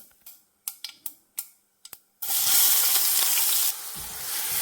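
Crushed spice ingredients hit hot oil with popped mustard seeds: a few sharp clicks, then a sudden loud, steady sizzle that carries on and eases slightly before swelling again.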